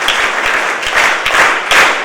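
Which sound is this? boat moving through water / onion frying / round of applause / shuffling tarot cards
round of applause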